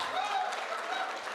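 An audience at a film pre-release event applauds for a producer, giving a short burst of fairly soft, dense clapping with a faint voice running underneath.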